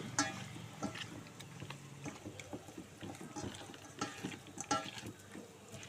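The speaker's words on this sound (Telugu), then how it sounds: "చూడండి, ఉల్లిపాయలు అయితే చక్కగా వేగుతున్నాయి" Onions frying in a pan for a fish curry make a soft, steady sizzle with faint bubbling and occasional stirring scrapes, heard quietly and without speech.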